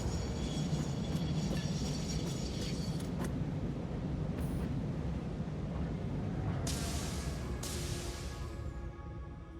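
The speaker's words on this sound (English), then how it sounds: "Ah, neat little train ride." A train in the video game Satisfactory rolls along its rails with a steady low rumble and clatter for several seconds, a few faint higher tones and brief hissing bursts over the top, no talking.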